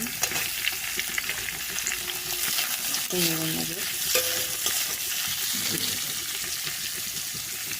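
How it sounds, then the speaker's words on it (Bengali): Carrot and capsicum stir-frying in a pan for Maggi noodles, a continuous close sizzle with brief scraping stirs and a few clinks midway. "এগুলো ভাজা হচ্ছে"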